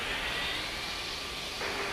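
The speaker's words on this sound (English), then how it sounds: "I think there's a plane behind us, to be honest." Jet aircraft engine in Microsoft Flight Simulator, heard from behind during an online-network flight out of Melbourne: a steady, loud broadband roar with a faint high whine running through it, unbroken for about two seconds.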